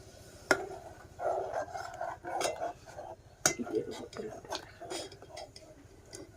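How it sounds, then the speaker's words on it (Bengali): An electric heater stove is set down on two bricks, producing sharp metallic clanks and clinks scattered through the clip amid handling noise, with a person speaking over it. "দুইটা ইটের উপর চুলাটা রাখবেন"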